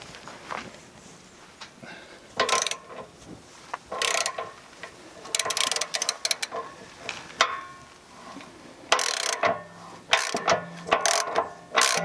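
A socket ratchet clicks in short, quick bursts while loosening the anode rod of an RV water heater, with quiet pauses between strokes and light handling noises in the background.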